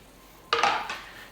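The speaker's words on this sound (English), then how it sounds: "we're just going to stir those cherry tomatoes in there, in that mixture" Cherry tomatoes being stirred into a casserole mixture, heard as three quick scraping clatters of a spoon against the dish in close succession after a brief quiet moment.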